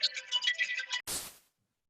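A phone ringtone chirps in a quick repeating melodic pattern during an online physics class, then cuts off abruptly and gives way to a short burst of hissy noise before silence.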